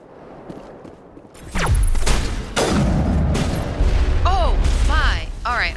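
Gunfire and explosive booms in the Mass Effect Legendary Edition Virmire mission, loud bursts and impacts over a busy background of mechanical and sci-fi effects, continuing for several seconds.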